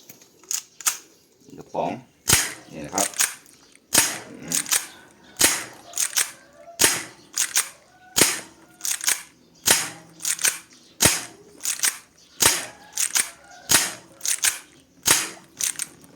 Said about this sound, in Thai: เดี๋ยวลองไปเทสยิงกันนะครับ